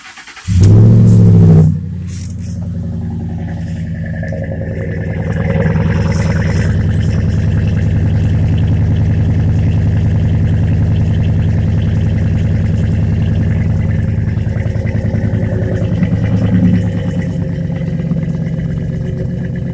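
A two-wheel-drive pickup truck engine starts with a loud burst, then settles into a steady, deep idle exhaust rumble that continues close by for the rest of the clip.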